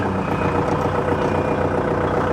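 A Kubota 4501 tractor idles in neutral at around 800 rpm, a steady low diesel rumble with no change in pitch or load throughout.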